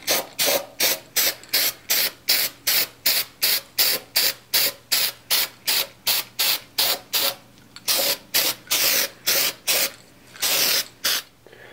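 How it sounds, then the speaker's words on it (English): Crack-check developer sprays onto a Vortec cylinder head in a rapid series of short aerosol bursts, about two per second, with a brief pause before the bursts resume, loud and close. "next we're gonna take the developer and we're gonna spray the rest of the head again"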